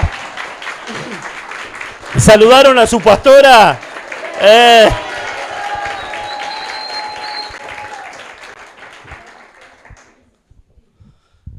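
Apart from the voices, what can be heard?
audience applause for the pastor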